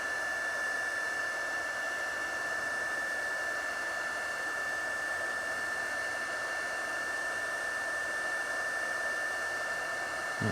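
Heat gun blowing a steady, even rush of hot air with a thin high whine, held close while shrinking heat-shrink tubing onto old car trailer light wires; no talking.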